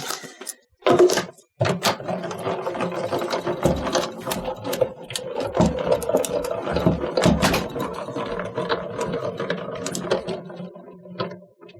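A die-cutting machine feeds a shutter card panel through its rollers for a second pass, producing a steady mechanical grinding and whirring that runs continuously for about ten seconds after a brief clunk at the start.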